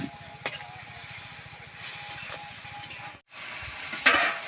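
Masala spice paste frying in a pan for a village-style fish curry with potatoes: a close, low sizzle with occasional stirring scrapes and a light clink, a brief dropout near the end, and no talk.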